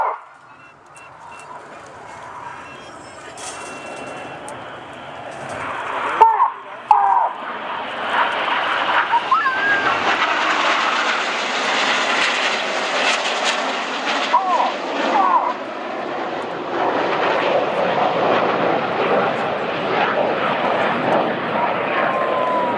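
Red Arrows jets roll back out of formation at the Farnborough Airshow, a loud, sustained jet roar that swells and fades as the aircraft pass overhead.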